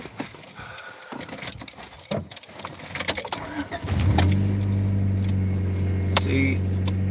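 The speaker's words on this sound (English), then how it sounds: "I gotta start up my car and make sure my electronics are on." A car engine is started: rustling and handling sounds with brief talk, then around the four-second mark the engine catches and settles into a steady, fairly loud idle hum that continues to the end.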